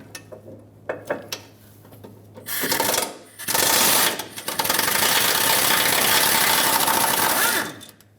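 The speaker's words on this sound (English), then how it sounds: "I'm going to pull out the 3 12mm bolts." Ratchet or power tool removing 12mm bolts from a 1995-2004 Toyota Tacoma frame while replacing the brake proportioning valve, several sharp clicks then loud, sustained whirring bursts of the tool running close by.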